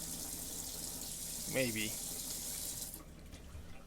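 Water running from the tap in a Winnebago Vita 24F RV, a steady hiss that cuts off abruptly near the end, while someone speaks one brief word partway through.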